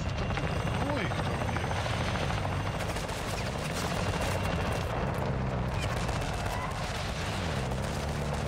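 A helicopter in Call of Duty Modern Warfare II DMZ, its steady loud rotor drone running throughout with scattered gunfire and game effects layered over it, while players talk.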